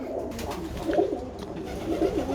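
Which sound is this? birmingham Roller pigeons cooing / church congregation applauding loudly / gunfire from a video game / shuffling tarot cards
birmingham Roller pigeons cooing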